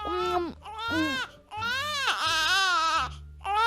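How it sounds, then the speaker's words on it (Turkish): A baby character cries in the video game Roblox: a series of loud, wailing sobs in rising and falling bursts with short breaths between them, close and unaccompanied. "Of oğlum sen niye ağlıyorsun ay kıyamam sana."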